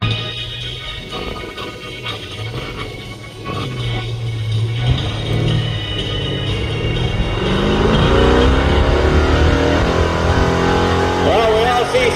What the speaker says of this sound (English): Well, we all see Sal's a fan of the loud pedal